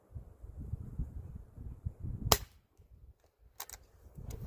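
A single sharp crack from a Weihrauch HW air rifle firing, standing out near the middle over steady low background rumble, followed by a couple of fainter clicks.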